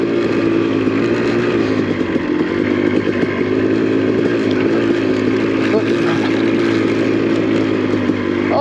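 A Honda CR250 two-stroke dirt bike ridden through snow on studless tyres, its engine droning loud and close in a sustained buzzing note with slight wavering throttle changes, no voices over it.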